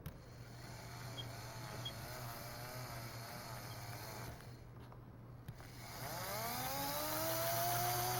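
A 120v induction motor driving a Lego Technic motor under heavy load makes a faint, steady low hum, then a whine rising in pitch near the end as it spins up.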